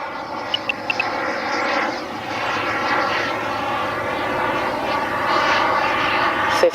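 Elite Aerosports BDX RC jet with its turbine engine spooling at takeoff power, a steady loud roaring whine holding throughout with a few brief clicks early on and a sharp transient at the very end.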